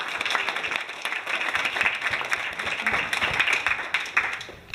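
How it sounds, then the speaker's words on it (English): Audience applause at a school design and technology challenge prize announcement, a lively burst of clapping from a nearby crowd, with individual claps standing out and swelling through to the end. "Give them a round of applause."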